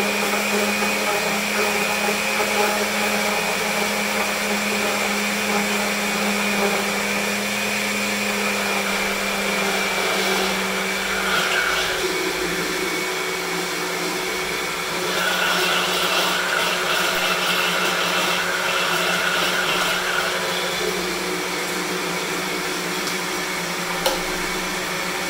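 A blender whirs continuously while mixing pancake batter, a loud, close, high motor whine that shifts pitch slightly as the load changes, with no talking over it.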